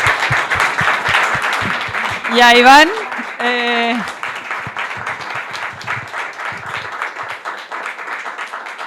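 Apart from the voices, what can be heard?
audience applause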